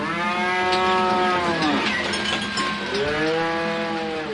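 A buffalo moos loudly and close by, giving two long, drawn-out harmonic bellows, the second rising after a brief dip, with no talking.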